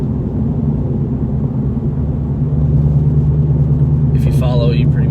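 A 2003 Ford Mustang GT with a 4.6 liter two-valve V8 rumbles steadily while driving, a deep low drone that grows slightly louder midway, with a brief voice near the end.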